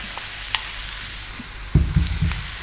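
Mushrooms hit a hot pan, a steady sizzle of frying under occasional spoon scrapes, then a louder clattering burst of stirring near the end, close and without talk.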